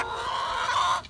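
Laying hens clucking in a farm coop near their feed store of seeds and grains, a steady overlapping murmur of close, moderately loud clucks throughout with no talk.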